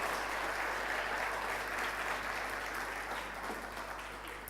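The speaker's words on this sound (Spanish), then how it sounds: "Dale un aplauso a Jesús." Congregation at a church congress closing service applauding, a sustained dense roar of clapping that stays steady and fades slightly at the end.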